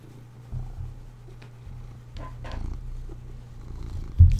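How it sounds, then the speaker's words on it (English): A domestic cat purrs right against a microphone, a close, loud, steady rumbling with some rubbing bumps as its nose brushes the mic. "I wonder if you guys can hear that purring for the kitty."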